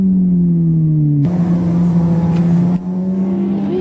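A motorcycle engine over-revving while downshifting, a steady high-pitched drone that dips, then abruptly jumps in pitch and settles, loud and close, with no voices.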